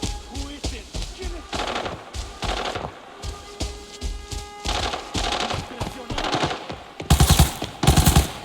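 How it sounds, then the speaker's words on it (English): Gunfire in the mobile shooter Arena Breakout comes as bursts of automatic shots, loud and close, repeating through the whole stretch and peaking in heavy blasts at the end. "Gunshots in front of 1 minute door."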